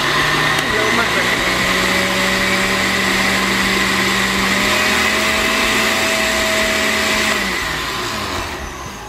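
A blender motor whirs loudly and steadily while grinding sugar, starting slow then faster, pitch shifting as it runs, then winding down toward the end.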